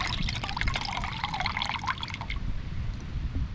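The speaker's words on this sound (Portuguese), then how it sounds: "O tanto de água." A stream of water gushing out of a fruit just pierced with a machete, a steady liquid splashing and trickling up close for a few seconds with no voices.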